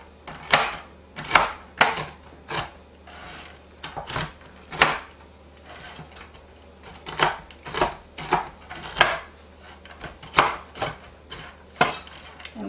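A knife chops pecans on a cutting board in quick bursts of sharp taps with short pauses between, close and crisp, no talking.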